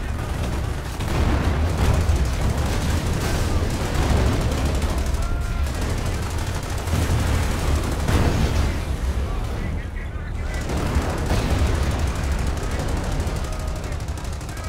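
Dense game battle in Company of Heroes with mortar fire among continuous gunfire and booming explosions, a loud unbroken wall of combat noise with layered shots and blasts throughout.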